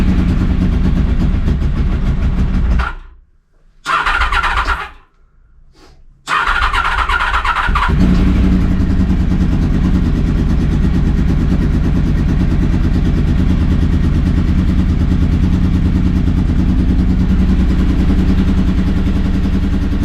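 A Honda VFR 750 motorcycle with a newly replaced exhaust cranks briefly, catches and starts, then settles into a loud, steady, close idle that runs on without any talking.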